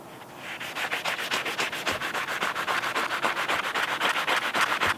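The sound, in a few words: hand sanding metal with sandpaper on a block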